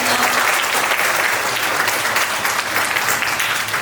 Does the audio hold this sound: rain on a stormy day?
no